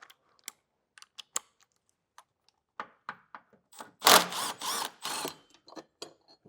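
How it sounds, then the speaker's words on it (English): Bolts coming off a metal hitch-area bracket on a 2022 Toyota Highlander, one 17mm and one 10mm: scattered sharp clicks and ratchet taps, then a dense burst of rattling tool noise midway, close and moderately loud with no speech. "It's got 2 bolts. This one's a 17mm and this one's a 10mm. Get those removed."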